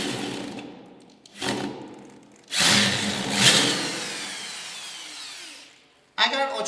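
A power drill fitted with a socket drives screws into a radiator in bursts: a short whir, a longer loud high spin, then a fresh burst starting at the end, with quiet gaps between.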